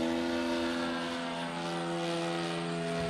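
The engine of a Sig Kadet Senior radio-controlled model airplane drones steadily during a loop, a high, buzzing propeller whine held at constant pitch and loudness, heard alone.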